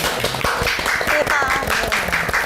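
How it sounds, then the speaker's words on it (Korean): A small group claps in quick, uneven bursts for a couple of seconds, close and lively, with a voice speaking over the applause. "박수!"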